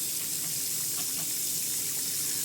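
Faucet water runs steadily in the video game Where Winter Crows Go, as a hand is held under the tap: a continuous, even hiss with no talk over it.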